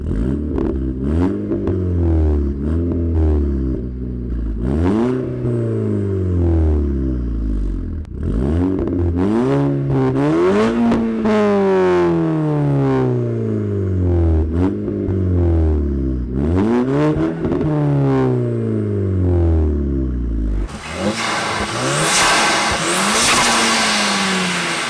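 A Leon car engine revs hard through repeated gear changes, exhaust roaring and rising in pitch again and again, loud and close, with no voices.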